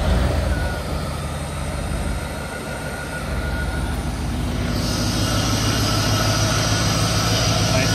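A bored-out engine in a 1986 Pontiac Trans Am runs at a steady, loud idle with a broad rumble, and the tone shifts and brightens partway through.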